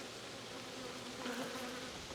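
A soft, steady drone of many honeybees humming together inside a queenless hive, muffled and enclosed, continuous throughout with no other sounds.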